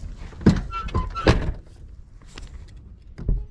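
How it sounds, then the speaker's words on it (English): A Chevy truck door shuts with a couple of solid, close thunks, followed by quieter latch and handle clicks. "See, we can shut the door. We can shut it all the way. The door shuts."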